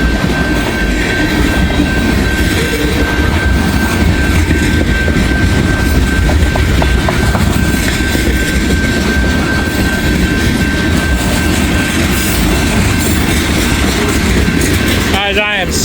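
A freight train hauling tanker cars rolls past at close range, producing a loud, steady rumble and clatter of wheels throughout, with a brief squeal or tone near the end.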